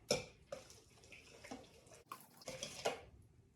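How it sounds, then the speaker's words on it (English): Whisking avocado oil, eggs and vanilla together in a mixing bowl for zucchini bread makes a quick run of scraping, clinking strokes in an uneven rhythm. The sound is close and moderately quiet, with no talking. "Now using a whisk, we're gonna whisk this all together."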